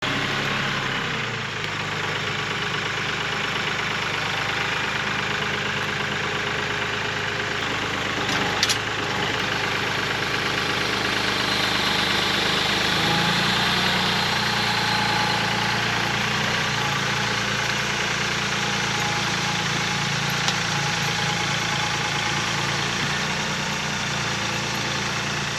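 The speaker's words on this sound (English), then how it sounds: "we're going to hook it up the tractor this time, and it should have no problem pulling it" A tractor engine runs steadily while pulling a wood splitter, a constant loud mechanical drone that holds for the whole stretch with a brief knock near the middle and no talking.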